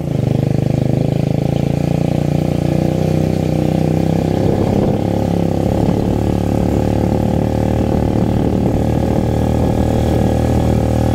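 A motorcycle engine runs close by with a loud, steady rumble, idling evenly and continuously from start to finish.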